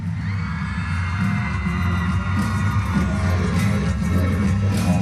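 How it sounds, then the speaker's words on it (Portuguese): Arena crowd cheering during the rhythmic gymnastics clubs final at the 2023 World Cup in Tashkent, a sustained roar of many voices with rhythmic clapping or pulsing under music-like tones, loud and continuous. "Levantando a galera na arquibancada aí, Rê."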